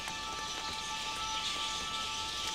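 Rain falls steadily on an African evergreen forest as a continuous, even hiss with no distinct pauses, and faint sustained insect-like tones run underneath.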